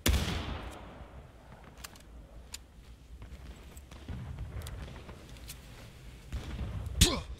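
Rifle fire in the Civil War shooter War of Rights, with a loud musket crack up close, scattered distant shots popping along a battle line, and another sharp nearby shot near the end.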